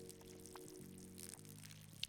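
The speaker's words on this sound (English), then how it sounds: "We're gonna fill this up. This is pretty nifty. And let's pour some water here." Water pours from a watering can in the video game Schedule I, a short quiet trickling stream over a low steady game hum, with no talking.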